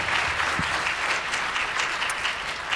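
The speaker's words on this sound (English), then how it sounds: "So could we give her a round of applause," Audience applause for a teacher at a student leadership event on community action, a steady, dense wash of many hands clapping that holds at an even level throughout, with no talk over it.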